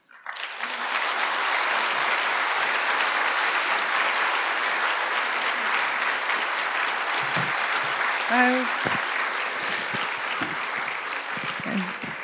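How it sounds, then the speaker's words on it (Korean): A church congregation of worshippers and citizens applauds loudly to welcome a National Assembly member and former history professor to the front, a dense, steady wall of clapping that holds for the whole stretch, with a brief voice near the end. "나오실 때 큰 박수로 환영해 주시면 감사하겠습니다"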